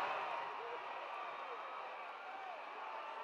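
A crowd at a wrestling match roars in a steady, distant-sounding wash of cheering that holds evenly throughout with no distinct claps standing out.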